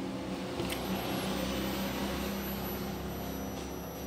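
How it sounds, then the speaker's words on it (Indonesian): A shorted power supply in a Polytron U-Slim PS52V03GG TV buzzes after being switched on, a steady continuous electrical hum and hiss holding at an even level throughout. "memang kedengaran memang seperti konslet ya teman-teman"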